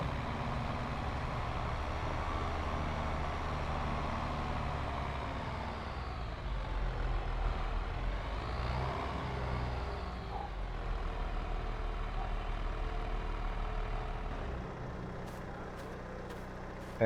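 Heavy farm tractor engine in a farming video game, rumbling steadily as it drives into a shed, with a low continuous drone that swells midway and a few faint high clicks near the end; no voices.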